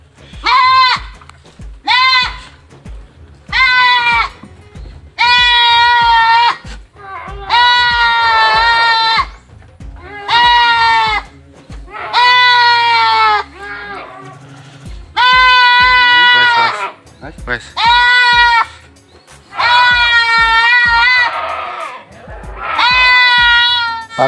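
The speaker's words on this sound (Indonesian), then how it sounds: "Ini peranakan kambing kebun." Young Boer-cross goats on a farm bleat loudly and close by while being weighed, calling repeatedly in short, separate cries. People talk quietly in the gaps between the calls.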